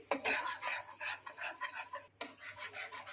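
Butter garlic chicken sauce thickened with flour being stirred in a pan over a low flame, a spoon scraping and clinking in a steady back-and-forth rhythm, close and fairly quiet, with a brief pause partway through.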